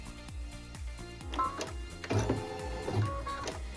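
An embroidery machine stitches a quilted wall hanging through hooped medium cutaway stabilizer, its needle pulsing in a steady, fast mechanical rhythm with a few heavier thumps, close and alone.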